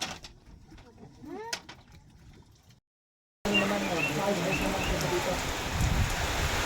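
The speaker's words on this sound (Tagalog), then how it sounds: "Ayan na nga mga kabundok, ay umulan na." Rain falls steadily in the mountains, a dense even hiss that starts abruptly after a brief silence, following a quieter stretch with birds calling.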